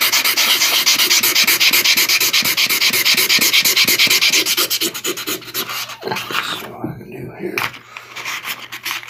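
A sharpening stone is flattened and cleaned by rubbing, giving a loud, close, rhythmic scraping of grit against stone in quick repeated strokes. The strokes grow broken and more irregular toward the end.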